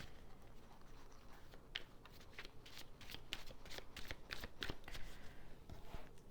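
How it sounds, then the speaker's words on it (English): Tarot cards being shuffled in quick, irregular bursts of crisp flapping and riffling that come and go over several seconds at a soft, close level, with no voice. "I'm going to pull cards on"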